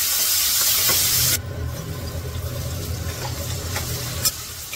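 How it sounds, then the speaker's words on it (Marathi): Onion and garlic frying in a pan for a green bean dish. A loud, bright hiss cuts off abruptly and gives way to a softer, steady sizzle with occasional stirring clicks. Nobody speaks. "आता थोडासा लालसर झालाय, कांदा परतून घेते"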